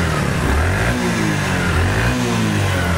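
The 102cc engine of a 2022 Bajaj Platina motorcycle runs at a steady idle, a constant close-up hum without revving or any voices.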